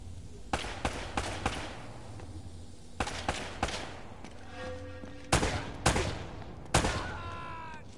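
Gunshots ring out in the video game Uncharted: Drake's Fortune: scattered sharp single shots early on, then a few louder, closer bangs near the end over a steady background hum. No one speaks.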